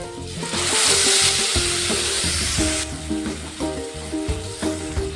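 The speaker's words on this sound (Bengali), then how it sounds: "মশলাটা ভালোভাবে কষিয়ে নিতে হবে" Spice paste with Kashmiri chilli powder fries in hot oil and is stirred in a wok: a loud, bright sizzle at first that settles into quieter bubbling with repeated close stirring scrapes.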